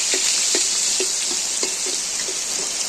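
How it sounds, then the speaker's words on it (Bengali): Snakehead fish frying lightly in oil in a pan, a steady hiss of sizzling with soft, regular clicks and taps from stirring or turning, close by and with no talk. "মাছটা কড়া করে ভাজলে ভালো লাগে না এখানে হালকা করে ভেজে নিতে হয়"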